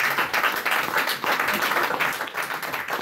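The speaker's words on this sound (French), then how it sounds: "acclamons pour la gloire de Dieu" A church congregation claps in a dense, continuous wash of applause, moderately loud and sustained with slight swells, with no speech over it.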